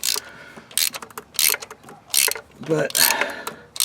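Ratchet wrench with socket turning a spark plug on a 1999 Toyota Tacoma 3.4L V6, heard as bursts of quick metallic clicking pawl strokes, close and fairly loud, with a brief spoken word in between.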